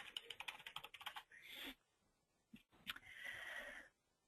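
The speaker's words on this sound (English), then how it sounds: "Boy, I am struggling with typing today." Quick bursts of clicking keys on a computer keyboard come up close and quiet, with stop-start typing, brief pauses and a longer run of taps near the end.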